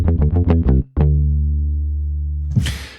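A processed synth bass with shaped transients and a shortened decay plays a quick run of short punchy notes, then one long sustained low note that slowly fades, followed by a brief burst of noise.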